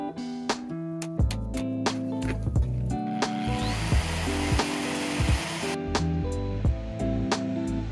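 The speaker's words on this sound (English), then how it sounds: "what I'm going to go over today with the sander" Power sander working over old paint and rough residue on a boat hull, a steady close grinding whir interrupted by repeated sharp knocks and bumps as the tool moves across the surface.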